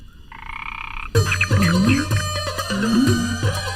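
A frog croaking loudly and close, a run of deep repeated croaks that starts abruptly after a faint tonal hum and continues steadily to the end.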